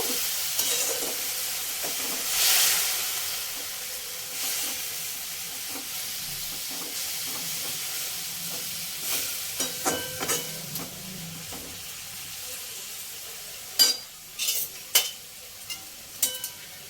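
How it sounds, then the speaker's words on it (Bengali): Hot water is poured into a pan of dry vermicelli and stirred, with soft sizzling and steamy hiss followed by scattered scraping and clinking stirring sounds near the end; no talking. "এক কাপ গরম জল দিয়ে দেবো। দিয়ে একবার নেড়ে দিয়ে ঢাকনা দিয়ে 5 মিনিট সেদ্ধ করে নেব।"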